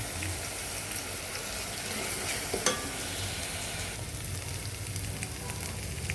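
Tomato frying in a pan with ginger garlic paste for a fish curry, a steady soft sizzle throughout with a few faint stirring scrapes, close but quiet.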